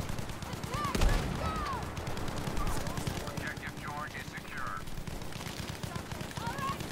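Battlefield V gameplay brings a sharp blast of tank shell fire near one second, set among a steady rumble of engines, scattered gunfire and shrill in-game sounds.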